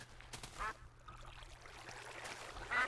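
Duck in the video game Minecraft, two short nasal quacks, one early and one at the end, fairly clear over a quiet low game hum with no talking.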